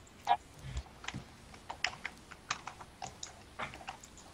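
A Razer DeathStalker computer keyboard is typed on with quick, uneven clicks and taps, some louder keystrokes among lighter ones. The typing is fairly quiet and close, with no voices over it.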